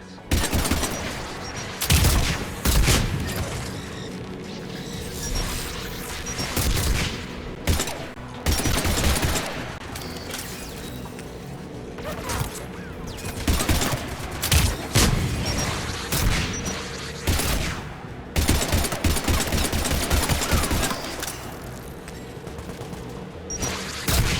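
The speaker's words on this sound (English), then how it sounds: "AA guns ahead of us." Anti-aircraft guns firing in the Mass Effect 3 video game, repeated loud bursts and volleys of heavy gunfire over a continuous battle din, with occasional voices.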